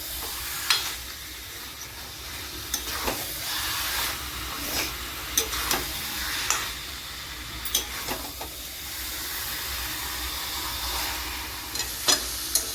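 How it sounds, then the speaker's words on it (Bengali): Mutton sautés with spices in a pan, giving a soft, steady sizzle broken by scattered clinks and scrapes of stirring, quiet and close with no talking. "মোটামুটি 5 মিনিটের মতন এই মাংসটাকে একটু মশলাগুলোর সঙ্গে একটু কষিয়ে নিয়েছি।"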